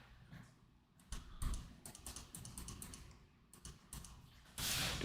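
Typing on a computer keyboard, a close run of quick clicking keystrokes in bursts with short pauses, ending in a louder rustling stretch.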